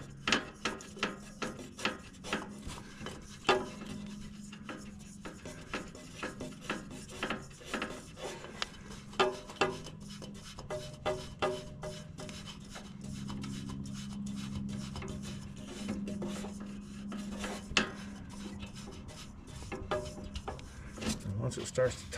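An oil filter is screwed by hand onto a John Deere Z910A mower, with a run of close, rapid rubbing and scraping clicks as it is turned, while someone talks intermittently.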